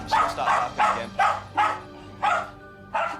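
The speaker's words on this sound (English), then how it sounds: "If I stand up again, she'll start barking again." A pet dog barks repeatedly indoors, six loud, evenly spaced barks close by with short gaps between them, no voices over them.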